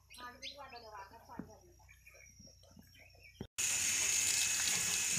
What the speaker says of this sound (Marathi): आणि बघा आता दादा तिथे घराला मारतोय पाणी